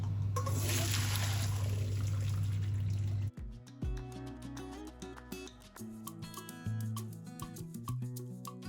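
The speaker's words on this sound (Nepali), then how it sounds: "म यहाँ चिसो पानीमा पखाल्दैछु" Cold water runs loudly into a strainer over cooked pasta, then gives way to sloshing, dripping and clattering as the pasta is rinsed and shaken, close by.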